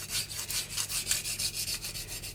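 Steel blade rubbing back and forth on a 150 grit Omurato sharpening stone, a close, even, rhythmic scraping with about a dozen regular strokes and no talk.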